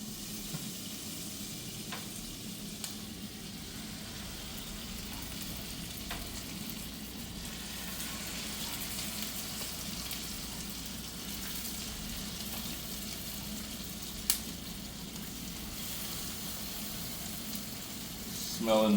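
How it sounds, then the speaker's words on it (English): Crab cakes searing in melted butter in a hot pot give a continuous close sizzle and crackle, with occasional spatula stirs and a soft tap click, a faint voice briefly underneath. "So we're gonna sear our crab meat for about 3 minutes per side"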